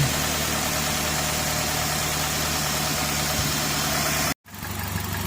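A car engine idles steadily after a piston ring sludge-removal treatment, a loud constant low hum with a brief dropout near the end before the running sound resumes.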